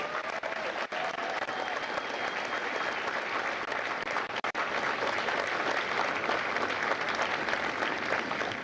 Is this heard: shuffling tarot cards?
no